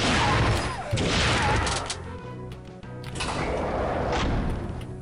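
Rocket launcher fire in Wolfenstein 3D Siberian Offensive on Macintosh: two loud booming blasts with crashing decay, close and dense, the second following after a brief dip, no talking.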